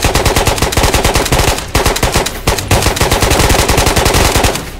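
Rapid automatic gunfire from the Ghosts of Tabor video game rattles in loud, dense bursts, with a few brief pauses between strings of shots.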